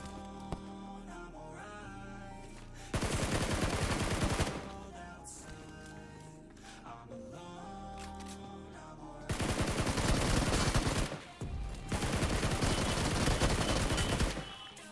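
Automatic gunfire bursts in the battle royale mobile game BGMI, two long loud volleys separated by quieter game sounds and a further sustained burst near the end, with no talking.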